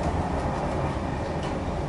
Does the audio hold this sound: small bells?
no